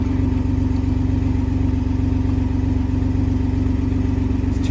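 A BMW 323ti Kompact with a freshly bled clutch idles steadily close by, a loud, even engine drone with a faint rhythmic clatter throughout.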